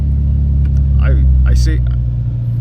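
Nissan 350Z with a newly swapped engine, starting and idling steadily with a brief rise in revs, close and loud.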